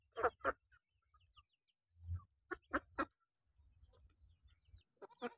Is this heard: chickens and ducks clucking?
yes